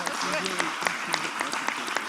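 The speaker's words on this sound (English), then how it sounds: "let's give Steve a huge Rotary round of applause" An audience at a Rotary meeting applauds with a dense, even patter of claps at moderate distance, with a voice heard briefly at the start.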